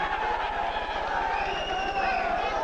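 A boxing arena crowd at a WBC middleweight title fight between Keith Holmes and Hacine Cherifi murmurs and grumbles in a steady, dense hubbub, with a rhythmic low thumping underneath throughout.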